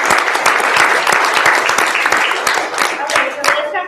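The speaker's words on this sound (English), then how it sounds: "I want to give a round of applause." Classroom audience applauding a guest named Richard Morris: dense, steady clapping from many hands, loud and close for several seconds, thinning slightly toward the end.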